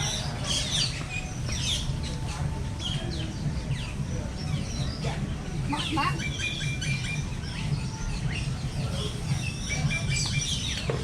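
A mix of birds chirping and calling all around in an aviary at Disney's Animal Kingdom, overlapping tweets and short calls over a steady background murmur, with some speech mixed in.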